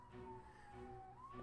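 A siren in the video game Persona 4 Arena Ultimax holds a steady wailing tone that dips slightly, then starts to rise again. It sounds moderately loud against a low background rumble.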